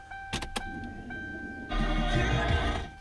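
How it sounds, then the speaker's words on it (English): A Ford Crown Victoria's fuel pump primes with the key turned on, a brief click followed by a steady low electric whir starting midway, heard close up inside the car. "You hear the fuel pump kicking in."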